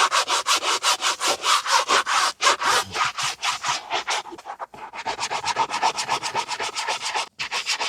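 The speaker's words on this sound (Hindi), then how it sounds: "तो जैसे जैसे फोम ख़त्म होते जा रहा है उससे पहले हम इसे रब कर देंगे।" Brush scrubbing foam into the fabric seat of a Tata Punch EV during interior deep cleaning, a steady run of fast, close rasping strokes with two brief pauses, loud and alone.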